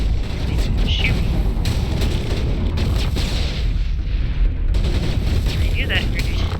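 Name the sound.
gunfire in Mass Effect 1 video game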